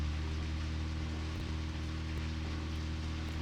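Steady rain falls in the video game Deadly Premonition, a constant even hiss with faint low rumbling underneath and no voices.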